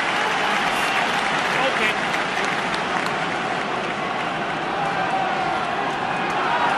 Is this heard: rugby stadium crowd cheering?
yes